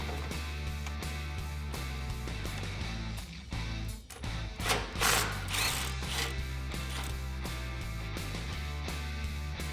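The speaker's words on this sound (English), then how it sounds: "I'm also going to use that 12mm socket and the 3-inch extension." Ratchet driving a 12mm socket on a 3-inch extension to remove a brake line bracket from the frame of a 2005-2021 Toyota Tacoma, rapid close clicking pawl in repeated bursts with brief pauses and no talk.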